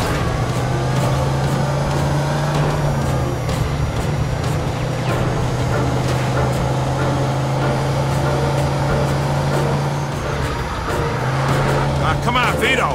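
A car engine hums steadily in the video game Mafia 2 as the car cruises along, a continuous near drone with slight rises in pitch, under voices speaking.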